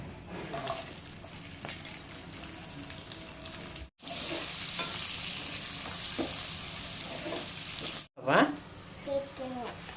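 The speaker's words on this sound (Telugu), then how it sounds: "అలానే లవంగాలు వేసుకొని దోరగా వేయించుకోవాలి. నేను దీంట్లోనే వేసుకుంటాను." Cloves and onions fry in oil for Afghani chicken curry with a continuous loud sizzle and occasional stirring scrapes. The sizzle cuts out briefly twice, and people talk over it near the end.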